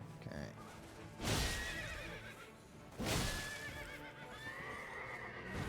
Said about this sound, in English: games have just been using the same horse sound effects for the past 30 years